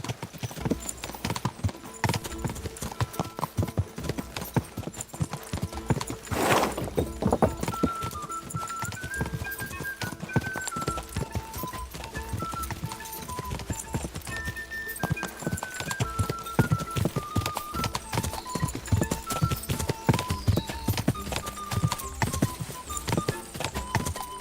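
In Kingdom Come: Deliverance II, a horse gallops with a fast, rhythmic clip-clop of hooves that runs steadily and stays close, under a melodic game-music line.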